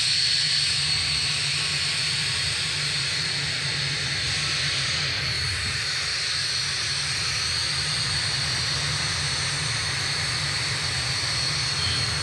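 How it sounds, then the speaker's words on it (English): Boom XB-1 supersonic jet sits with its engines running at Mojave, California, giving a loud, steady roar with a high whine on top that holds unbroken throughout. "The engines are going to be shutting down on XB-1 for the final time"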